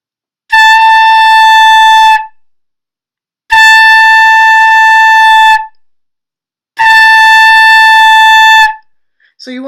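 Flute head joint blown on its own, giving three long, steady, bright whistling tones, each about two seconds, separated by short pauses, loud and close, with a brief voice at the end.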